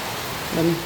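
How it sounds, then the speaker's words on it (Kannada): Steady, dense hiss of heavy rain falling without a break, with a brief tonal murmur rising near the end. "ಜೋರು ಮಳೆ ಬರ್ತಾ ಇದೆ"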